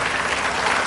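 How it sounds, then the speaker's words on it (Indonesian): A TV game show studio audience applauds a contestant, a brief, loud, dense wash of clapping hands from a crowd. "Tepuk tangan untuk Savitri."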